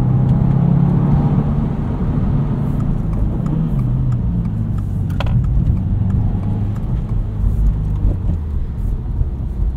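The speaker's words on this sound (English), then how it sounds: "There's not the same droniness to this exhaust that there has been in previous WRXs that I've tested." A 2022 Subaru WRX with a six-speed manual hums along while driving, its engine and exhaust a steady, fairly quiet low rumble throughout, without drone.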